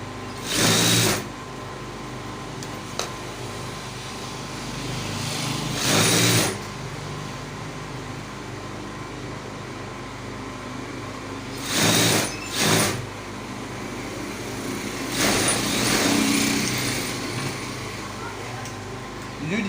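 A sewing machine stitching a corset cup for a blouse runs in several short bursts of rapid whirring, each a second or two long and close up, with quiet pauses between them.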